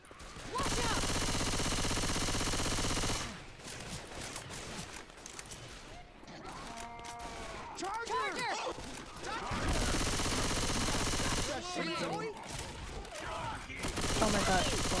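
Gunfire in a zombie video game, with repeated bursts and volleys running nearly the whole stretch, loud and dense at first, then mixed with game effects and shouting voices.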